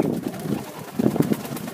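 A young Egyptian swift pigeon, about five weeks old, coos softly. Low, throaty pulses come close to the microphone, and a short run of three or four rolling coos sits in the middle, with no voices heard.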